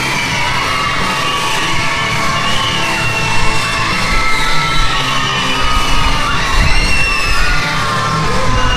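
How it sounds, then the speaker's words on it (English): A crowd of children screams and cheers loudly and continuously for wrestler Jordan Perry at a live wrestling show, with shrill yells and whoops rising above the roaring din throughout. "Listen to them kids scream for Jordan Perry."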